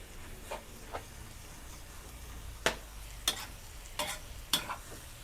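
Glass noodles and vegetables are stir-fried in a pan under a low, steady sizzle, with a handful of sharp spatula taps and scrapes scattered through the stretch, close by and quiet.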